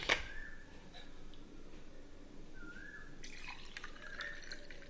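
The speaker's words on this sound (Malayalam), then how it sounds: "നമുക്കിതിന് ഗ്ലാസ്സിലേക്ക് ഒഴിക്കാം." Chocolate milk pours into a glass, heard as faint, brief drips and small gurgles close by in a quiet room.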